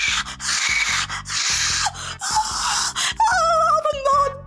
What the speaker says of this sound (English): I know we're fucking drilling in my living room